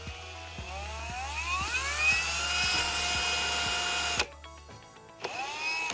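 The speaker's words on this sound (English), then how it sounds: "You want to line up your bit with the center of the hole, and then you're gonna drill in there." A power drill bores a guide hole through a custom door card for a Subaru GC 2.5RS, giving a loud, steady whine with rising pitch. It cuts out abruptly near the end, then briefly spins up again.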